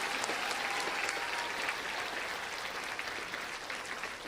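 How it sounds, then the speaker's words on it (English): Steady applause from a school theater audience for the senior cast members of a student production, dense and sustained across the whole stretch, with scattered claps standing out from a broad wash of hands. "oh, you can clap for them. Go ahead."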